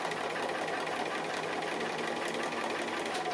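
A domestic sewing machine runs in a steady, continuous whir at close range while stitching appliqué fabric, holding an even mechanical drone throughout with no voices.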